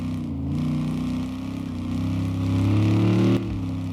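A truck in the My Garage video game is driven around a track, a steady low engine drone that rises slightly in pitch as it accelerates, then drops abruptly near the end, with no talk.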